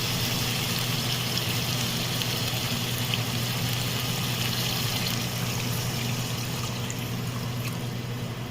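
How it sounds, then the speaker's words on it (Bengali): Water poured into a pot of chicken curry browned with spices, a continuous steady pouring rush over a low constant hum, unbroken for several seconds. "এবার আমি পরিমাণ মতো জল দিয়ে দেবো।"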